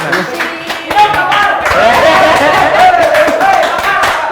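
Studio audience clapping fills the room, a dense continuous patter of many hands at close range, with a host's voice and crowd chatter mixed in underneath.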